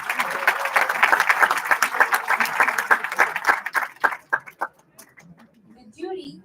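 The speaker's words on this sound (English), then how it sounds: "Can we have a huge round of applause for them?" An audience applauds the jury at a club awards event, with dense clapping that thins into scattered single claps and then fades out near the end.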